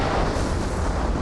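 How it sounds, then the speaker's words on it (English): A movie explosion from The Condemned, a deep continuous roar with rumbling low end filling the whole moment, loud and sustained with no voices. "The explosions are clearly a clean way of dispatching people"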